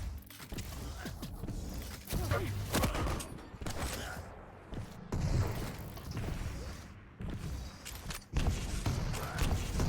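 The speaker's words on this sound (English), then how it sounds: "Fireworks in celebration of the frag." Celebratory fireworks after a frag in the Quake Champions arena shooter, a busy stream of sharp pops, bangs and crackles in irregular bursts with short gaps between them, fairly quiet and mixed with other game effects.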